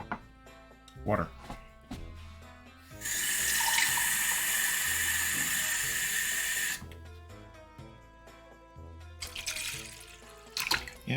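A kitchen sink tap runs in a strong, steady gush of water for several seconds before shutting off, with clinks and handling sounds around it and a second short burst of water near the end; a person talks at times.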